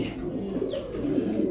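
Close, low pulsing coos from a pair of modern Bondinette pigeons run continuously through the moment, soft and throaty with slight swells in loudness.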